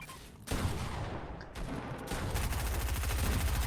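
Fortnite gunfight with shotgun blasts and assault rifle fire, a quiet start giving way to a loud, steady barrage of shots that keeps building to the end.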